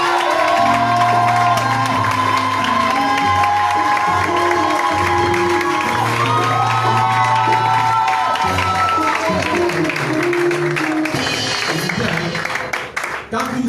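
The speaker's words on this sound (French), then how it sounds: "acclame le Seigneur Jésus" A church congregation cheering and acclaiming Jesus: a loud, sustained crowd roar of shouts, whoops and clapping, with music and voices mixed in, fading near the end.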